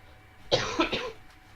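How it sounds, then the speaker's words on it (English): A single close, harsh cough breaks out in a couple of quick bursts, then fades to quiet room tone. "I still have a cough that doesn't want to go away."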